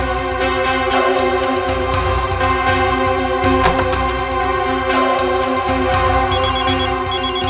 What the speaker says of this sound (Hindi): माँ का जयपुर से फोन है